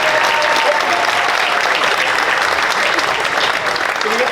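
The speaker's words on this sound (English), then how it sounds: "Let's have a round of applause for this lovely lady." At a Middlesbrough magic show, a crowd applauds a woman called up from the front row. The clapping is loud, dense and sustained at close range, with a faint murmur of the audience underneath.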